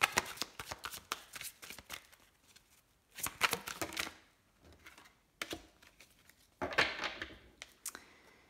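Oracle cards are shuffled by hand close up in several separate bursts of crisp riffling and slapping, with quiet pauses between them.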